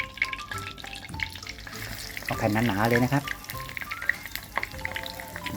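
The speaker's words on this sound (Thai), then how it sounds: "ตั้งกระทะนะครับติดไฟให้น้ำมันร้อนนะครับ" Food sizzles and crackles in hot oil close by, with clinks of a utensil and someone speaking briefly over it.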